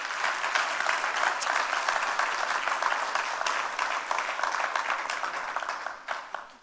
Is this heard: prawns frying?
no